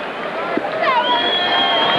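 Boxing crowd at the MGM Grand in Las Vegas during a women's bout, a steady dense roar of cheering voices that swells slightly midway and holds loud throughout.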